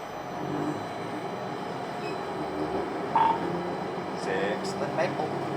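A Little Rock Metro streetcar on the Blue Line pulling away from a stop in a historic housing district, heard from the cab as a continuous low rumble with faint squeals and clanks.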